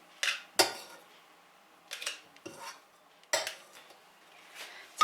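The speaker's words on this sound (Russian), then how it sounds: "Берем масло и вот так вот его сразу же на кусочки порежем, чтобы было удобнее перемешивать." Butter cut into pieces for shortcrust dough, a handful of distinct close knife taps and clinks on a board or dish with quiet pauses between them.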